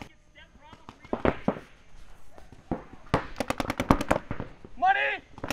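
Paintball markers fire at a Mid-American X-Ball League match: a rapid burst of sharp, cracking shots close by, preceded and followed by someone talking and shouting.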